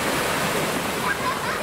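A Jeep wades through the flooded ford at Rufford, heard as steady rushing, splashing water noise at moderate level with no clear engine note.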